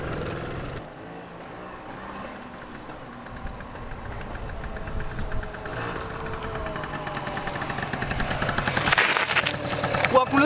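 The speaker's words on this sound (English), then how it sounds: "This Moped. It's got pedals on it. 2 strokes." A small two-stroke moped engine cold-starts, cranking and sputtering, then catches into a rapid, uneven popping rattle that grows louder and busier.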